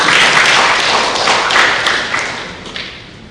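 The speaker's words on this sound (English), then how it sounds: "Please clap for him all." An audience applauds a speaker at a youth public speaking competition, a full burst of clapping that swells and then slowly tapers off, close and fairly loud.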